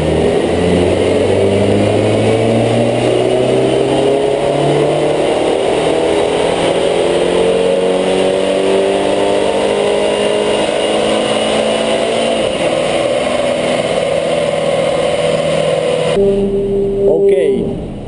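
A stage 1 flashed Audi A4 2.0T FSI with a K04 turbo revs on a dyno in one long pull, its engine note climbing steadily and loudly before cutting off near the end, with voices over it.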